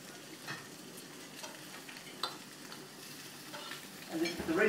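Salmon fillets laid skin side down on kaffir leaves sizzle on an Everdure Sterling gas BBQ, a soft continuous hiss with light clicks and scrapes, growing louder near the end.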